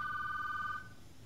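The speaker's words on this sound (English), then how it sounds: "there's going to be a phone ringing on the desk" A telephone on a desk in Call of Duty Modern Warfare rings with a single steady electronic trill that holds for most of a second and then cuts off, fairly clear over a quiet low background hum.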